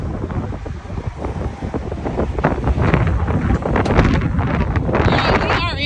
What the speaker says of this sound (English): we are in Idaho, and it is so windy